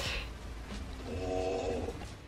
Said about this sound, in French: Elle ronflait comme pas possible et du coup j'ai filmé un petit peu le moment.